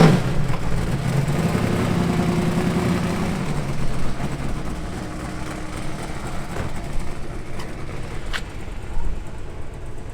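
A barn-find Chevy Ute idles steadily at a car cruise in La Perouse, Sydney, its low engine rumble holding even and moderately loud throughout, with no one speaking.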